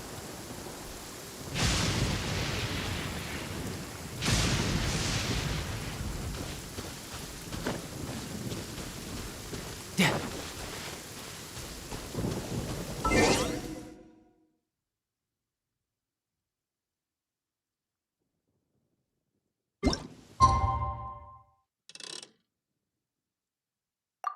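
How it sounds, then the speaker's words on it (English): Thunder rumbles and rain falls in a Genshin Impact storm, several low rolling booms over a steady wash, before near silence and a few faint clicks. "Uh-oh! Lightning storm!"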